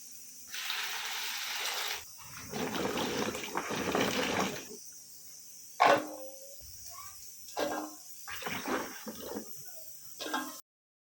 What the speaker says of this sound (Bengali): এখন কচুরলতিতে একটু জল দিয়ে ধুয়ে নেব।